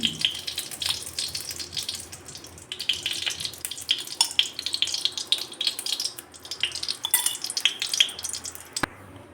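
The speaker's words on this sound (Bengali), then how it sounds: "কাজু বাদামটা ঘিয়ে ভেজে নিচ্ছি।" Cashew nuts frying in ghee in a kadai for semai: a bright, uneven crackling sizzle that runs throughout, with occasional light metallic utensil knocks. No talking.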